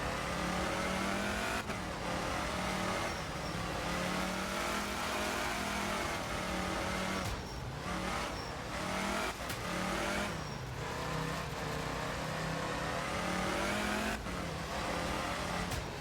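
A Lancia Fulvia rally car engine in the video game Art of Rally roars and revs continuously, pitch rising and falling through gear shifts, loud and close throughout.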